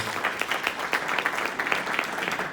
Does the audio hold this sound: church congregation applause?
yes